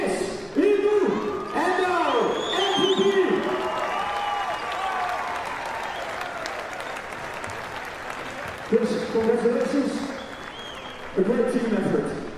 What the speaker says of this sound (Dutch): Dames en heren, u applaus voor onze nummer 2525